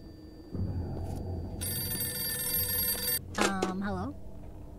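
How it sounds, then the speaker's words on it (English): A telephone bell rings inside a horror video game, its bright repeated metallic trill sounding loud and near for over a second, set against a low ambient drone and followed by other game noises. "We can answer the phone."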